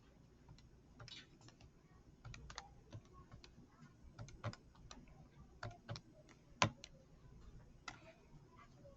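An equation being typed into a graphing calculator, with faint, quiet, irregular key clicks spread across the stretch, one louder press near the middle.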